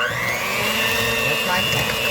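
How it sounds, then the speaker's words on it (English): An electric hand mixer beats butter and sugar for cookie bars, a steady high motor whine running continuously at close range, with a voice heard faintly underneath. "So I'm going to mix that with my hand mixer."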